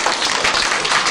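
A live audience applauds, a dense, steady wash of many hands clapping that carries evenly through the whole moment without anyone speaking.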